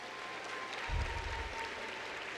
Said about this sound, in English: So give yourself a hand of applause.